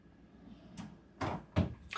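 Drawers in a Hyatt Centric The Pike Long Beach hotel room are pulled open: three short, fairly close knocking slides, the second and third louder, over a quiet room hum.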